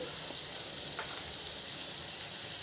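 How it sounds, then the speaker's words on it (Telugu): Onions with turmeric fry quietly in a pan, a thin, steady hiss of sizzling oil with one small tap of a utensil about a second in. "ఇలా అన్నీ వేసాక వీటిని కలుపుకుంటూ కొంచెం ఉల్లిపాయలు మగ్గే వరకు వేయించుకోవాలి."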